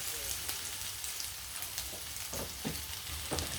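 Ginger sizzles in a pan for chicken curry, a soft, steady frying hiss with light crackles and a few stirring clicks, fairly quiet and close.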